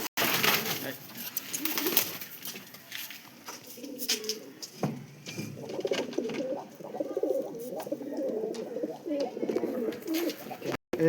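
Pigeons coo in a soft, repeated, rolling murmur, with a few wing flutters and scattered nearby sounds, and someone talks faintly in the background.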